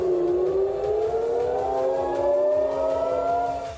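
A civil defense air raid siren wails over Herzliya near Tel Aviv, a loud rising tone that climbs slowly and sustains, with a rapid pulsing rumble beneath.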